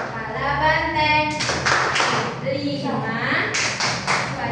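Children clap and tap along to the Tepuk Pancasila hand-clap chant, sharp bursts of clapping interleaved with chanted voices at close range.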